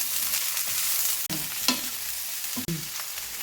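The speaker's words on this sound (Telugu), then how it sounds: "వేయించుకోవాలి." Chickpeas and vegetables frying in a pan for kalagura curry, a steady sizzle broken by a couple of scraping stirs of a spoon against the pan, close up, no voices.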